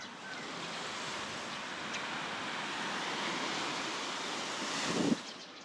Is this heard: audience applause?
no